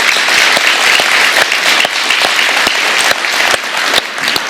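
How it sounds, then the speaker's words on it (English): A church congregation gives loud, energetic applause, a dense wall of clapping that continues without pause from start to finish. "Let's hear an applause like you mean it."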